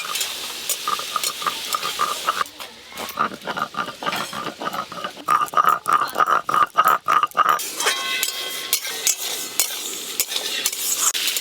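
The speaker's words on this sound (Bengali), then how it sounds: "ডাল ভালো করে নেড়ে নিয়েছি, এবার নামিয়ে নেব।" A spoon scrapes and clatters steadily inside a metal pot of simmering golden moong lentil dal, close and repetitive, with a faint bubbling sizzle underneath and no talking.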